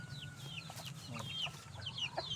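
Young roosters (bullstags) on a farm cluck in short, repeated bursts over a steady low background hum, a few birds calling close by.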